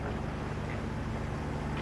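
A boat motoring along on open water toward Port Angeles, with a steady low engine drone and faint wind and water wash, heard alone and fairly quiet.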